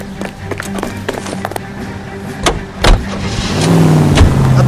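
Car in L.A. Noire pulling away, engine noise rising steadily under scattered knocks and clatter, a loud revving drone building toward the end, close and prominent.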